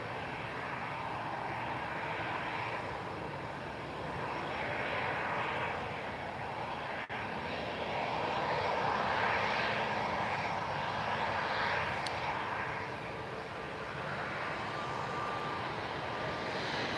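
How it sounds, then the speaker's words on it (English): A Ryanair airliner comes in to land at Lisbon Airport on a cloudy, windy evening, its engines a steady distant roar swelling slightly, heard alone without talk. "Ryanair, is it landing?"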